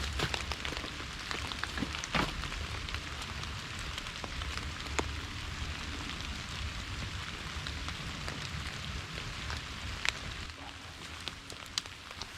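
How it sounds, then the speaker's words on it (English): Steady rain falling on a surface, a dense continuous patter with occasional louder drops, close and fairly loud throughout. "And it's raining."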